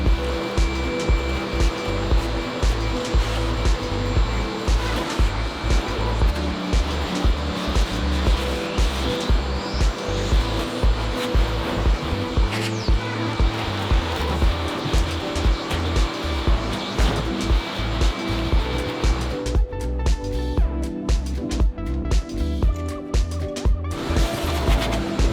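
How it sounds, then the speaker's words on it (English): A vacuum cleaner runs steadily and loudly over the exterior paint of a barn-find Monte Carlo SS that sat parked for 20 years, a continuous broadband whine with bumps and shifts as the nozzle moves, alone without talk. "We're going to begin by vacuuming everything off the exterior of the paint"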